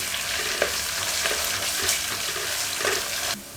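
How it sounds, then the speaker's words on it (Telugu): Ginger garlic paste frying in a pan for mutton keema gives a steady, loud sizzle from start to finish, with a few brief scraping stirs. The sound drops off sharply near the end. "ఇప్పుడు దీంట్లోనే మనం అల్లం వెల్లుల్లి పేస్ట్ వేసుకుందాం. ఇది కూడా పచ్చివాసన పోయే వరకు వేయించుకుందాం."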